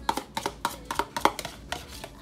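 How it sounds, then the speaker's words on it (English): Pasta salad being stirred with homemade dressing in a bowl, a series of close, wet scraping and clacking strokes in an uneven rhythm, with no talk. "And I'm gonna stir this up."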